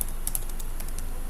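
Code is typed on a computer keyboard during a Python network automation session, with quick, light, uneven key clicks at close range and no voices.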